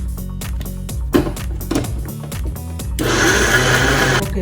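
A blender whirs through appam batter mixed with yeast and coconut water, starting as uneven bursts and settling into a steady, loud, continuous grind for the last second or so, with no talk over it.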